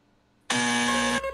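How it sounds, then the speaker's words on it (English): A quiz game's time-up buzzer gives one flat, harsh electronic blast of about three quarters of a second, loud and close, after a quiet pause. "that was after the buzzer"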